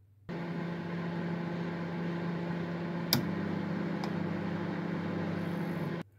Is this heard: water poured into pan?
no